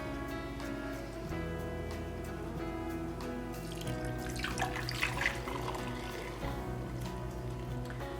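Custard mixture for an old-fashioned baked custard poured from a container into two baking crocks, a steady close liquid trickle and splash running through with no talk.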